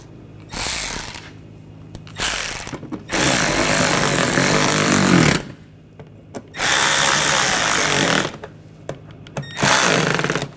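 A power driver runs screws into the underside of a 2007-2013 BMW X5 front grille in several loud, close bursts of whirring and ratcheting, separated by short quiet gaps, with no speech.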